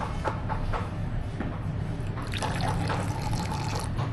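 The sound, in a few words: hot water poured onto powder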